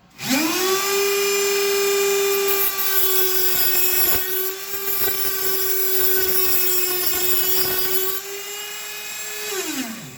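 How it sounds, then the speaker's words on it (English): A power tool blade cutting stainless steel at high speed gives a loud, steady, piercing whine that holds for several seconds and winds down at the end. "I'm cutting this stainless steel with that blade, and I just keep rotating it, tracing that black line until it cuts off"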